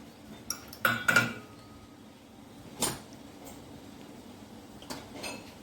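Garlic is pounded in a mortar for a spicy yogurt garlic chutney, heard as a few irregular, close metallic knocks and clinks spread across a quiet kitchen background.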